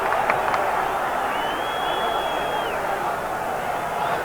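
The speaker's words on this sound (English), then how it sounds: "And that has got the predominantly Mexican crowd going." A predominantly Mexican crowd at an England versus Mexico international football friendly roars and cheers steadily throughout, a dense distant wash of voices with a faint whistle-like tone partway through.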